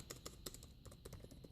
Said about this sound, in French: la résistance des touches est plutôt bonne, la course des touches est également bonne